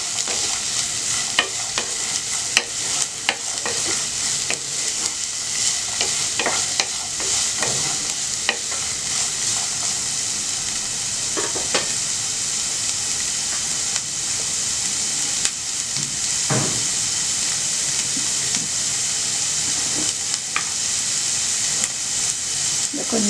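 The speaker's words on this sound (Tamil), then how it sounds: "இது வந்து கொஞ்சம் நம்ம நல்லா வதக்கிக்கலாம்" Beans, carrot, peas and capsicum being sautéed in a pan for white sauce pasta, a steady close sizzle and hiss with repeated scraping stirs running throughout.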